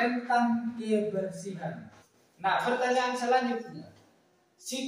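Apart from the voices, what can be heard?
None of the usual background noises is heard.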